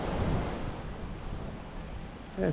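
Sea waves rolling onto a wide beach at Bar, Montenegro, a steady broadband wash of surf with some wind buffeting the microphone, continuous and fairly close throughout.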